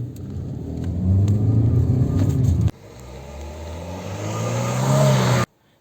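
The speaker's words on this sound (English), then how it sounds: "if you are giving full throttle, then a lot of noise comes inside the cabin" A Kia Seltos petrol engine with an IVT transmission, heard inside the cabin at full throttle, drones loudly and climbs in pitch, breaks off briefly, then rises again in a steady strained roar.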